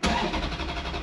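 A Ferrari engine starts with its exhaust valves closed: a brief crank catches into a muffled, mid-pitched rumble that settles into an even idle, close by and fairly subdued.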